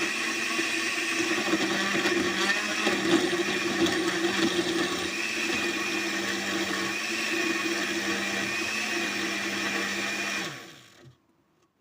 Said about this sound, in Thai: ถ้ามีเครื่องปั่นก็ปั่นเอาเลยนะคะ